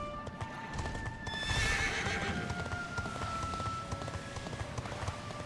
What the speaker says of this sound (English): Well, I can seriously ride my horse in here.